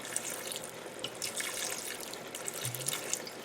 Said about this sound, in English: we're going to go ahead and pour some vinegar in